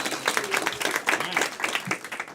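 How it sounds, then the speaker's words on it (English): Audience applause at a live game-show style event, a dense wash of many hands clapping at moderate loudness, with a voice briefly speaking over it. "Clap for Nikki, everyone."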